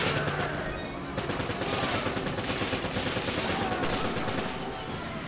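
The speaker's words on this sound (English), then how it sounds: "He's shooting." Enemy gunfire in the video game Resident Evil 5, a dense rapid volley of loud shots cracking without pause over a continuous backdrop of game noise.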